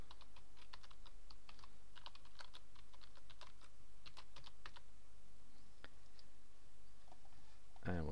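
A password typed on a computer keyboard, a rapid series of close, crisp key clicks in uneven bursts over a steady background hum, ending with a brief louder sound.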